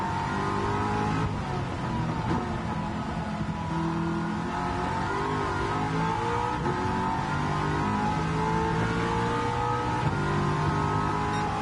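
Car engine in the racing video game Gran Turismo 7, a powerful car revving and accelerating steadily with shifting engine tones throughout, loud and continuous with no talk.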